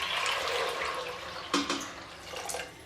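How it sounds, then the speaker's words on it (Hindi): Water pours into a pressure cooker holding soaked chickpeas, a steady splashing stream that shifts in tone as the pot fills, with no talking. "इसमें इतना पानी डालूंगी जितनी मुझे ज़रूरत है।"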